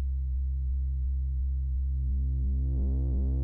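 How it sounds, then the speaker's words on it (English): A steady, buzzy synthesizer tone pulses in a repeating rhythm, its sound growing rounded and dull as a low-pass filter closes down, with slight brightness returning near the end. "as we turn the cutoff down, it's going to only let the low frequencies pass through"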